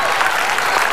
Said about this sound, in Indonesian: Sekali lagi tepuk tangannya untuk Asal Debat